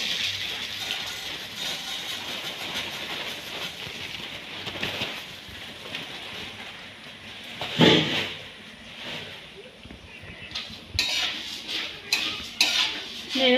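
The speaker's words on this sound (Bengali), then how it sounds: "এবারে মুড়িটা দিয়ে দেবো ওই তেলের উপরে।" Puffed rice tossed in hot oil in a pan, a dry rustling sizzle under repeated scraping and clinking of a spatula against metal, with louder clatters toward the end and no talking.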